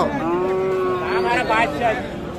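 A young calf lets out a long, drawn-out moo nearby at a cattle market, with a second wavering call following, over faint background murmur.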